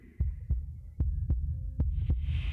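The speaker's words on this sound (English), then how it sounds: "a wooden and fleshy heart beating with an unbroken rhythm" A wooden and fleshy heart from the video game Slay the Princess beats in an unbroken rhythm, deep regular thumps over a low hum, with a rising airy tone near the end.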